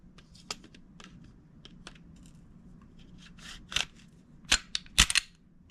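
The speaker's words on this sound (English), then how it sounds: "So we're going to go ahead and put the 19 slide on here." A Glock 19 slide is fitted onto a Glock 47 frame: quiet handling rustle, then a few sharp metallic clicks and snaps near the end, close up with no talking.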